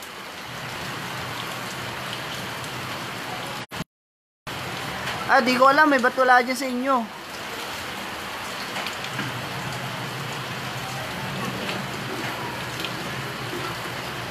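Steady rain hisses throughout, with a voice speaking briefly in the middle and a short dropout near the start.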